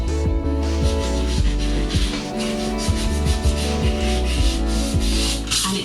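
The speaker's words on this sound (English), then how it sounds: "so I actually normally sand very lightly in between each coat." Light hand sanding of painted wood with 3M flexible sandpaper, close rhythmic rubbing strokes repeating steadily, with no talking.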